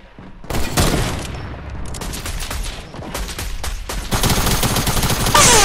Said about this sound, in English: Oh, yeah, this is a sniper. It's a semi-auto sniper.